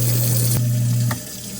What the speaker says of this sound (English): Functioning disposal.